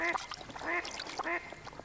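Ducks quack in three distinct, evenly spaced nasal calls, fairly close and clear over a quiet background.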